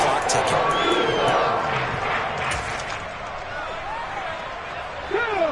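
Football stadium crowd roars and cheers during a game as play builds toward a big third down, a broad wash of noise under a commentator's voice that eases slightly before swelling again.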